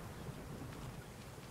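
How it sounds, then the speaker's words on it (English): Steady rain with low rumbling thunder in the survival video game The Forest, a dense, continuous wash of noise filling the whole stretch at moderate level, with no voices. "Rain."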